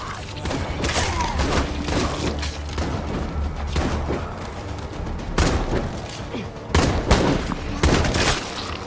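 Gunfire in the zombie survival game State of Decay 2, with bursts of rapid shots and heavy thuds ringing out loudly in quick succession over a low rumble, with game voices sounding in between.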